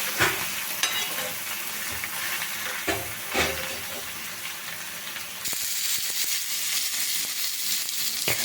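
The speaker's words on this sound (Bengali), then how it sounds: "এগুলো ভাজতে মোটামুটি 10 থেকে 15 মিনিট সময় লাগবে।" Banana-flower paturi parcels wrapped in banana leaves fry in a pan with a steady, close sizzle and crackle, a few louder pops and stirring scrapes, the frying growing brighter and denser toward the end.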